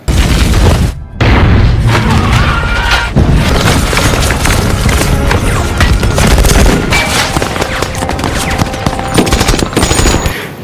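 A gunfire exchange in an action film between elite military troops and rebels: loud, continuous bursts of automatic fire and heavy booms, dense and close throughout with only a brief dip near the start.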